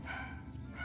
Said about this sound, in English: You hear the puppy?